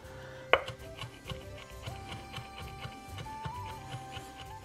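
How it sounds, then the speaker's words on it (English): Parsley, thyme and rosemary being finely chopped with a knife on a board: a sharp opening knock, then a steady run of light, rhythmic taps over a humming background. "Just finely chop it up."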